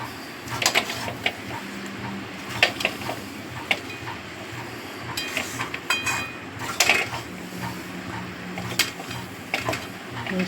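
Bhetki fish head and bones with cauliflower ghonto being stirred in a pan: scattered clinks and scrapes of a utensil against metal, in irregular bursts over a low background hiss.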